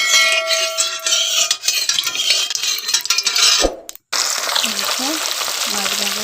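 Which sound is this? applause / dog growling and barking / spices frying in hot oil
spices frying in hot oil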